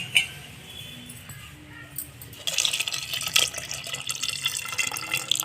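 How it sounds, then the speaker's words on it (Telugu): Water is poured into a pan of fenugreek leaf dal cooking on the stove. A steady splashing pour starts partway through and runs on close and fairly loud, with faint background noise before it. "మనం తీసి పెట్టుకున్న వాటర్ ఉన్నాయి కదా ఫ్రెండ్స్, మొట్టమొదటిసారిగా అవి ఇప్పుడు అందులో పోసేద్దాం"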